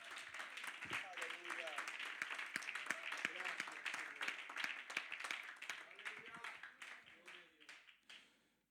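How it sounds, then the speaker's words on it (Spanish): Faint applause rises from a church congregation, continuous and patterned, running under a preacher's voice speaking through it. "Démosle un aplauso al Señor Jesucristo."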